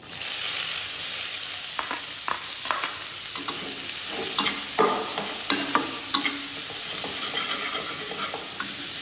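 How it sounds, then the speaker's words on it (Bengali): Chopped onion frying in hot oil with a bay leaf and whole cumin seeds for a turkey egg bhuna, giving a steady close sizzle and hiss with scattered crackles and stirring scrapes, no voices. "একটা তেজপাতা, এরপর কয়েকটা আস্ত জিরার ফোড়ন দিয়ে দিচ্ছি, এরপর দিয়ে দিচ্ছি পেঁয়াজ কুচি"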